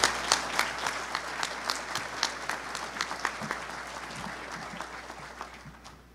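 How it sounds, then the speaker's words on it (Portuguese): Loud audience applause greets Governor Moisés as he takes the stage for the opening speech at the 4th Fórum Liberdade e Democracia; dense clapping fills the hall, then gradually thins and fades toward the end. "Uma salva de palmas."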